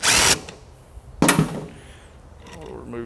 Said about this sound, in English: we'll go ahead and remove the remainder of the bolts